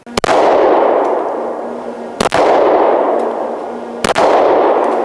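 Three gunshots from a Smith & Wesson M&P Shield 9mm pistol at a range, evenly spaced about two seconds apart, each a sharp loud crack with a long ringing decay, no speech.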